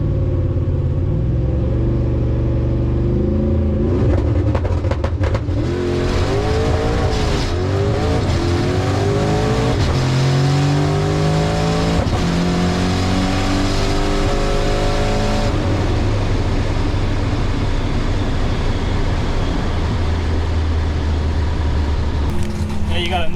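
A drag race car roars close and loud through a full pass down a Florida strip, its engine note climbing and shifting repeatedly before fading, with people talking over it.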